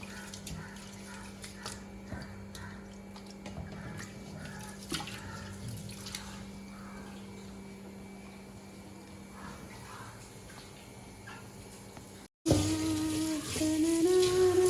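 Rice being washed in water for chicken biryani, with soft splashing, trickling and dripping sounds throughout. A brief cut near the end gives way to louder, different noise.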